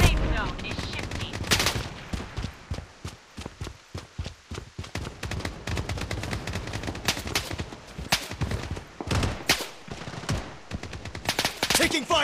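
Rapid gunfire from automatic weapons in the online shooter Project Bloodstrike, with dense bursts of shots and several loud volleys and a faint voice underneath.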